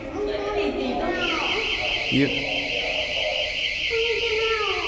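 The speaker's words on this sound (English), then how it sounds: "the third alarm rang" A steady electronic alarm tone drones loudly throughout at a dragon temple, with people talking over it and a brief low thump midway.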